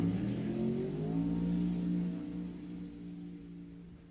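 A turbocharged 1970 Dodge Dart drag car launching at the strip, the engine revving loud and close with a rising, wavering pitch as the tires break loose into smoke, then fading slightly as it pulls away.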